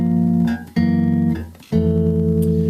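An electric bass plays a 2-5-1 with tritone substitution, three sustained chord tones in sequence, each held about a second, with the low notes stepping downward; clean, close, no voices.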